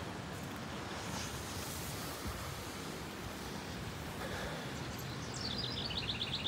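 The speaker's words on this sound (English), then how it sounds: "listen to that wind blowing through the trees" Steady wind rushing through trees on a hillside street in a small Nebraska town, a broad continuous whoosh with faint bird chirps near the end.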